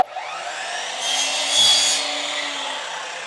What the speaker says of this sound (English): we're just going to use our miter saw to cut it